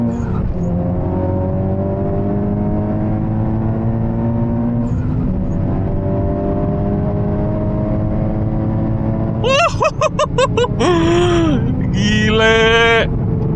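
A tuned Honda Civic Type R rolls from first gear and pulls hard, its engine droning loud and rising in pitch before sharp shifts and climbing revs through the upper gears, with brief speech early on.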